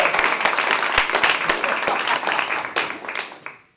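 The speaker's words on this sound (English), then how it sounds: "round of applause, this is your first comedy show. Round of applause." A comedy club audience at a stand-up showcase at the Camino Real Playhouse gives a sustained round of applause, dense clapping with some sharp individual claps, fading out toward the end.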